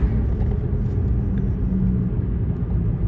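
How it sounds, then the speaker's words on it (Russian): A car's interior fills with a loud, steady low rumbling hum, jet-like, from a fault that needs a part replaced; a continuous drone with no talk over it. "Гудит у меня что-то с машины не в порядке"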